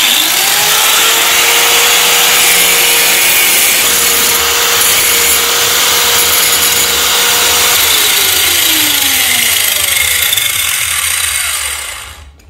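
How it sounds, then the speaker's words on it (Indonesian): Electric angle grinder cutting steel to make a bicycle hub cone wrench, a loud continuous high whine with a screeching cut that holds steady and then spins down at the end, close and without talk. "Oke, kita garap satu lagi teman-teman ya, dengan gerinda listrik."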